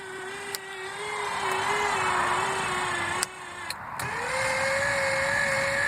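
Linear actuators on a homemade mech, run from a car battery through a simple polarity-reversing switch, give off a steady electric motor whine that shifts pitch partway through. Brief clicks occur as the switch is thrown.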